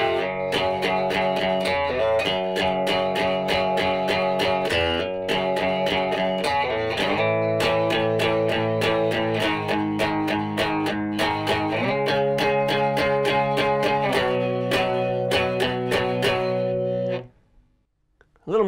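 Electric guitar playing a song part at a slow tempo, a lesson demonstration of a repeating riff with held notes and struck chords, close and loud, ending abruptly into near silence.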